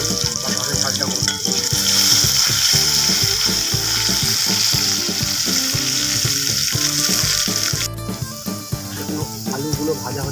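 Chopped potatoes fry in oil in a pan for a Bengali fish curry, giving a constant close sizzle with steady crackling and occasional stirring clicks throughout.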